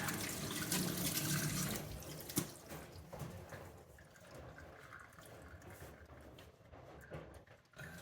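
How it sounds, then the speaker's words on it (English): Running tap water splashes into a sink while hands are washed in a home kitchen, a steady close rush that gradually thins out, with a brief clatter partway through. "So I'm gonna go ahead and wash."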